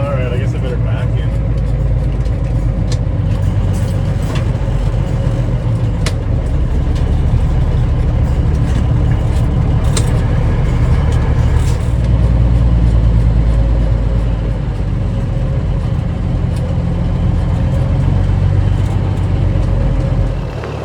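A Smokey and the Bandit tribute semi truck backs into place, its heavy diesel idling and rumbling steadily at close range for about twenty seconds. Scattered clicks and knocks sound over the engine, and someone talks intermittently.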